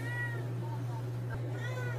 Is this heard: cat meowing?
yes